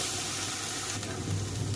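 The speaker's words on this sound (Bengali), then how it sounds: "এখন ভেজে নিই।" A pangas fish head with ginger and garlic paste sizzles in hot oil, a steady hissing fry with a faint low hum underneath and no talking.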